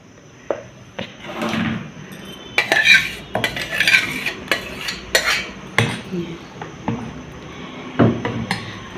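Banana pitha mixture being stirred in a bowl with a utensil, giving repeated clinking and scraping knocks against the dish at a steady, uneven pace, fairly close and alone.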